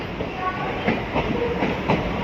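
A Tiruchendur-bound train rolls along the rails with a rhythmic clickety-clack of wheels over joints, steady and moderately close.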